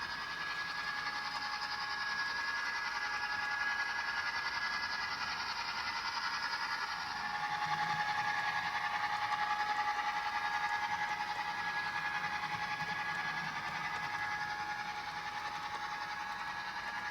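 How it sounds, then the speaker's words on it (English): An American EMD F7 diesel locomotive runs steadily with a continuous droning engine tone and a constant high whine, slightly louder midway through, heard alone without talk. "the locomotive sound actually reminds me a lot of the Irish diesels"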